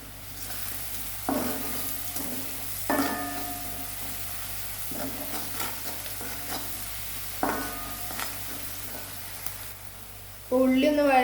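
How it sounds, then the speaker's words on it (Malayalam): Chopped onions with salt sautéing in a pan for egg masala thoron, with a steady soft sizzle and repeated close scraping stirs of a spoon, while a person talks over the cooking. "ഉള്ളി നന്നായിട്ട് പെട്ടെന്ന് വഴയാൻ വേണ്ടിയിട്ട് നമുക്ക് കുറച്ച് ഉപ്പ് ചേർത്ത് കൊടുക്കാം."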